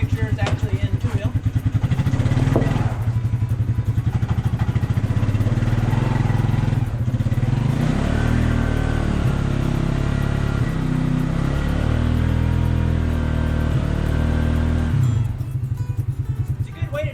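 A Suzuki King Quad ATV runs through snow in two-wheel drive, its engine droning loud and steady with throttle rises and falls and some clatter, close to the rider for the whole stretch.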